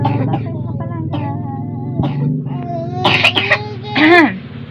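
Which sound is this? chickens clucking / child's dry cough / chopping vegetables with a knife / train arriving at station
child's dry cough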